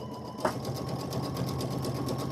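A sewing machine stitches with sterling thread, its rapid steady mechanical whir and needle clatter running loud and close from a brief start.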